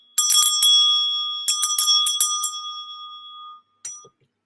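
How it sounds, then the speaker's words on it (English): A hand bell rings loud and close in quick clusters of bright metallic strikes: a first burst, a longer run of ringing, then one final short shake after a pause. "I was about to ring my bell. Look at this bad boy."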